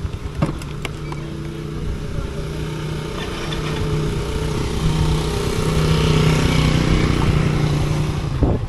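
Motorcycles ride through a flooded street in Malabon, the engines droning steadily and close, with a rising rush of water-churning noise building toward the end.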